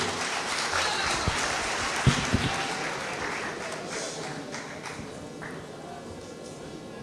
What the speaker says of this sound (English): Can I give a round of applause, please, for the governorship candidate of the All Progressive Congress, APC.